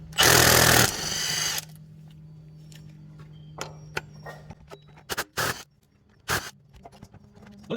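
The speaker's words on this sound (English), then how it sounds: "So I'm gonna use an impact gun." Impact gun rattling off the crank pulley bolts on a 2013 VW Jetta 2.0 during a timing belt job: one long loud burst at the start, then several short sharp bursts later with quiet clicks between.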